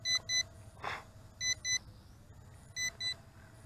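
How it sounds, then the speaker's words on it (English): A Potensic P5 mini GPS drone sends out repeated double beeps while returning home, three pairs of sharp, high electronic tones spaced evenly over a low steady hum, with a brief whoosh between the first two pairs. "Return home. Continuous double beeps."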